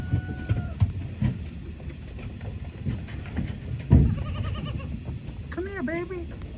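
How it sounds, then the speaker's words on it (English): A goat bleats in a wild area along the Little Calumet River in Gary, heard as a brief wavering cry near the end, mixed with people talking and scattered background noises. "you're making your goat noises"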